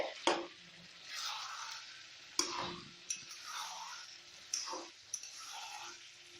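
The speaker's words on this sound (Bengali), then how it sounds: "মাংসটা 15 মিনিট ধরে কষাচ্ছি।" Mutton sizzling as it is stirred and sautéed with ginger in a pan over medium heat, with a soft steady fry and periodic sharp spatula knocks, quiet and close.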